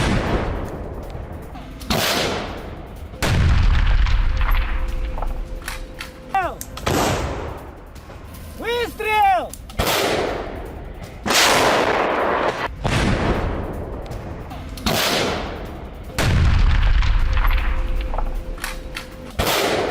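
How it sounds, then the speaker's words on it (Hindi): Russian artillery fires in Avdiivka, sending out a slow series of heavy booming blasts that ring out and decay between shots, with a brief whistling streak between the explosions. "अवदीविका में रूसी आर्टिलरी के हमले देखने को मिले हैं।"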